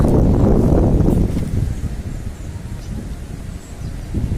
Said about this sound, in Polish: No, gdyby nie ten wiatr, kurczę. Trochę wieje.